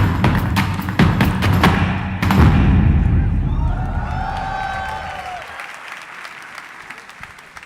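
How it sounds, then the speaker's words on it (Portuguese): Church congregation applauding to welcome a pastor at the ESLAVEC 2019 gathering; loud, dense crowd clapping with thumps that swells early, then fades gradually over several seconds, with some cheering in the hall. "Tome seu lugar, pastor Cote, vamos recebê-lo com aplauso."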